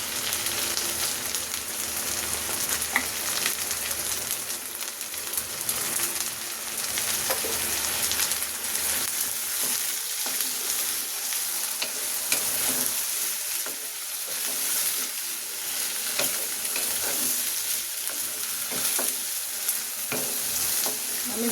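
Beef spleen fries in a pan as it is stirred, giving a steady, rain-like sizzle with soft scraping from the spoon, close up and continuous, no voices.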